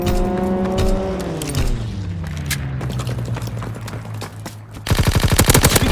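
An aircraft strafing run in the video game Call of Duty WWII: a descending engine roar swoops past, then a loud, rapid stream of heavy machine-gun fire hammers in at the end, alone without voices.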